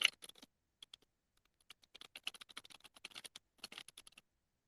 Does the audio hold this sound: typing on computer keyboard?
yes